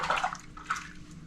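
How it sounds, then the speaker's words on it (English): Hands being rinsed under a running tap while preparing a creamy fish pâté with lemon, a brief close splash and rush of water with a couple of swells, alone without talk. "wash my hands after that lemon"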